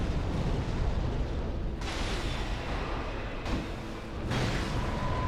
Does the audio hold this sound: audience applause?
no